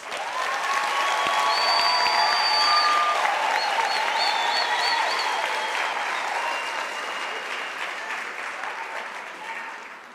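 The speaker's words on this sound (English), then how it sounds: "Let us give them a round of applause." At a university graduation ceremony, a large audience applauds graduates in a dense, sustained roar of clapping with whistles and cheers above it, gradually easing off toward the end.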